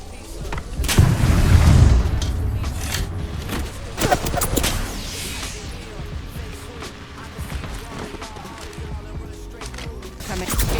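Video game gunfire: a heavy boom and a burst of sharp shots early on, then scattered shots and impacts over a lingering low rumble.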